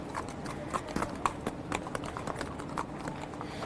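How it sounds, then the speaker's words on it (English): Racehorses walk past on the backside of Churchill Downs, their hooves making a steady, fairly close clip-clop rhythm with faint background voices. "these are Mr. Mott's horses coming by us right here"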